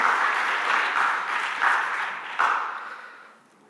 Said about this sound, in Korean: 우리 함께 박수로 격려하고 축복하겠습니다